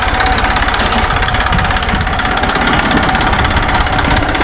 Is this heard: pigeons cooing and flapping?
no